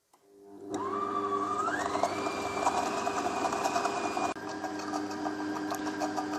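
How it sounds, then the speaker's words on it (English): An electric mixer spins up and steadily beats brown sugar into sticky toffee pudding batter, a close, loud motor whine that rises in pitch after starting, then holds a constant drone with a slight shift partway through. "I'm just going to add my brown sugar and mix that thoroughly."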